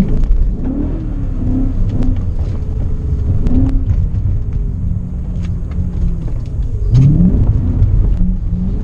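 A BMW E39 M5 engine rumbles loud and deep while driven, with its note rising and falling through revs and a stronger surge near the end.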